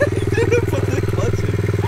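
A dirt bike engine chugs at low revs with a steady pulsing rhythm while a learner rider works the clutch, loud and close throughout, with faint voices in the background.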